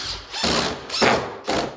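A power drill drives 2.5-inch screws into the legs of a portable skate ledge in three or four close, rough whirring bursts with a grinding, ratcheting edge.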